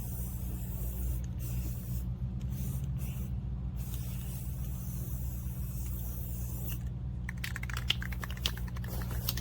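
Short bursts of aerosol spray hiss out in separate puffs as paint goes onto a circle-track race car, over a low steady hum, followed by a quick flurry of light clicking and rattling.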